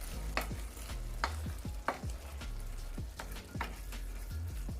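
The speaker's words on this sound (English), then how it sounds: "I have about a cup of mixed vegetable. I'm going to put that in." Mixed vegetables hit a hot pan for vegan mushroom vegetable rice, with steady close sizzling and frying under repeated scraping stirs at a loose, regular rhythm, no voices.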